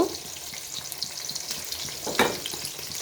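Ground spice paste hits hot oil in a frying pan with a sharp burst of sizzling, then a steady crackling fry with a brief stir-scrape flare, close and without talk.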